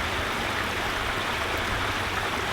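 Steady rushing and splashing of a backyard pond waterfall, a continuous close wash of falling water with no pauses.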